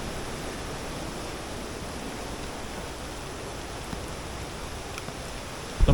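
A mountain side stream at a campsite on Doi Inthanon flows during the flash-flood season, making a loud, close, unbroken rush of water that holds steady throughout with no talk.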